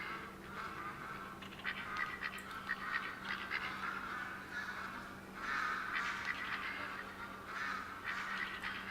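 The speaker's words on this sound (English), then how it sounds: "What this is I guess a feeding zone for these ducks. There's a lot of ducks here." Ducks quacking and honking in a dense, overlapping chorus at a feeding area in the hunting game theHunter: Call of the Wild, New England Mountains map, steady and moderately loud over a low constant hum.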